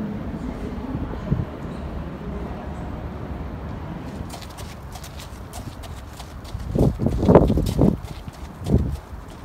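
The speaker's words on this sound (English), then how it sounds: "these are the horses of the king and queen of Denmark" Horses in the royal stables in Copenhagen walk with hollow clip-clop hoof strikes on a hard floor, growing louder and closer toward the end, over a steady background hum.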